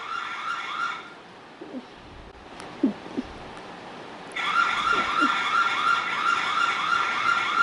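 An emergency button on a security camera sets off a police-style electronic siren, a cycling wail that sounds in bursts, pauses with a few faint clicks, then resumes steadily and fairly loud.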